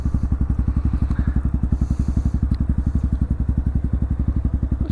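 A motorcycle engine idles with a steady, rapid low thumping pulse while the rider feathers the clutch during slow-speed practice, loud and close throughout with no talking.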